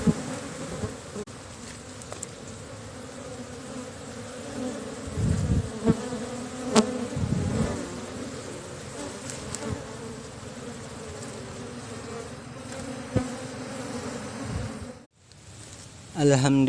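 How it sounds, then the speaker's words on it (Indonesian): A colony of Apis cerana honeybees hums in a dense, steady drone as it moves into a hive box, close and continuous with brief rustles and a pause near the end. "satu koloni lebah kita dapatkan sudah masuk ke dalam kotak"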